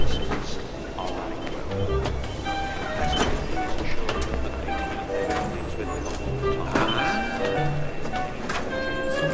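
A subway train runs through a Harry Potter film scene, giving a low, steady rumble and rattle under voices and film sound.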